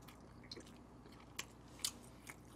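Quiet, intermittent crunchy bites and chewing on Gochu Basasak fried chicken during a mukbang meal, a few sharper crisp crunches standing out from a soft background with no talk.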